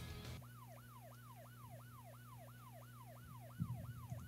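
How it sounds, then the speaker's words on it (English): Police car siren in a video game wails in a fast, repeating up-down pattern, loud and steady over a low engine hum, with a brief bump of noise near the end. "Fire up the siren, let's pull him over."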